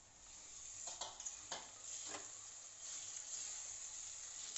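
Roasted eggplant bharit mixture being stirred in a clay pot, with several soft scraping strokes over a steady faint sizzle, close and quiet.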